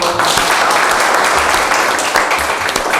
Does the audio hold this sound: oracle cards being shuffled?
no